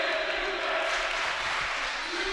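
A volleyball crowd in a gym roars and murmurs in a steady wash of noise, reacting to a foot fault called on a server during a women's college match.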